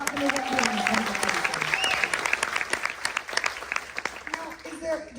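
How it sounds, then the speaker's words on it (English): Passengers aboard the Carnival Jubilee cruise ship applaud the Coast Guard during a military appreciation day at sea, scattered clapping under a talking voice, with voices rising and fading around it. "Nevertheless, a big round of applause for Coast Guard."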